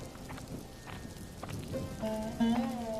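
A cartoon scene of rain falling on a winter day, with a steady patter of drops on a surface throughout and a tonal voice-like sound rising near the end.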